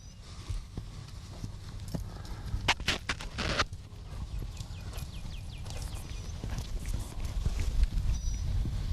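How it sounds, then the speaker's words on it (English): Horse hooves clip-clopping as a rider departs on horseback, a brisk run of hoofbeats close at first and continuing over outdoor background noise. "We're going to watch you ride off, Herbert, and then we'll be saying goodbye."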